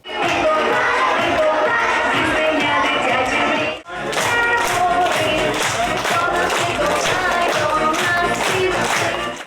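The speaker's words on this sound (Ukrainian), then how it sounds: "під галас і оплески дітвора зустрічає Миколая" Children at a St Nicholas celebration in Nadvirna cheer and clap loudly as he arrives, a continuous crowd roar with rapid applause that breaks off briefly before surging back even fuller.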